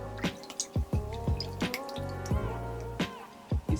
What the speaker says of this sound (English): So she wets her face first a little bit, just to get the face started.